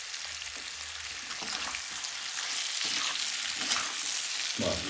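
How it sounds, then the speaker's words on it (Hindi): Spices for carrot pickle fry in hot oil with salt and black salt, giving a dense, continuous sizzle close up. Occasional stirring scrapes and clatters run through it. "3 से 4 मिनट के आसपास हमें इसमें भूनना है।"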